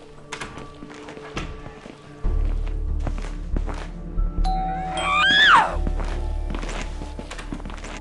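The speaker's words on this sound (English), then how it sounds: "Even the doorbell is mocking me!" A doorbell rings once with a bright chime indoors, heard over thumping footsteps and knocks.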